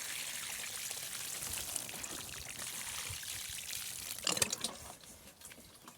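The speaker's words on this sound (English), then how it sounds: "Now we need to make sure we give them a good watering" Water pours steadily from a watering can onto container-grown Blue Lake climbing French bean plants with wilting leaves, a soft continuous trickle and splash that grows briefly louder near the end, faint and close, with no talk.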